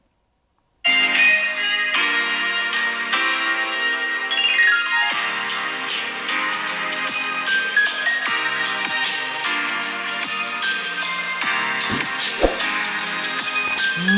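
Music plays steadily from an iPhone's built-in speakers after a short silence, thin and bright with little low end, no voices over it.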